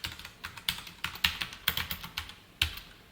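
Code being typed on a computer keyboard, an irregular run of quick, close keystrokes with brief pauses between bursts.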